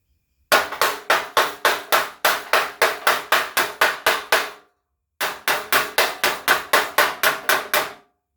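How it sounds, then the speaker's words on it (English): Rapid, sharp metallic hammer blows on a dolly, beating dents out of a Chevrolet squarebody truck's roll pan, ring out in a steady rhythm, pause briefly, then resume in another quick series. "We're just beating out the big dents"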